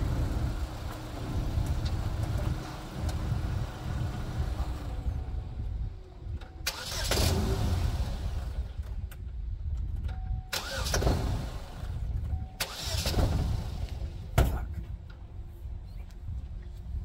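A car engine cranks and fires up on an outdoor film shoot, with three loud bursts of starting and revving breaking over a steady low engine rumble.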